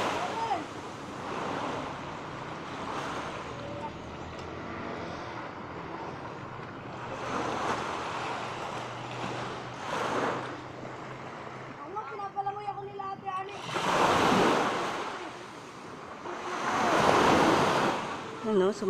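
Ocean waves surge and break on a shore where a child is learning to swim, rising in two loud washes near the end over steady wind and surf noise, with voices talking and calling throughout.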